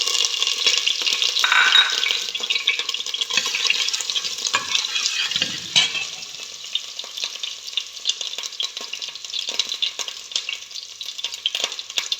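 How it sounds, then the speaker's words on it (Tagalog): Garlic sizzles and crackles loudly in hot cooking oil for a vegetable dish, a bright burst of frying that gradually settles into a quieter, steady sizzle with occasional stirring scrapes. "Nagpainit na ako ng mantika para magisa na natin ang bawang"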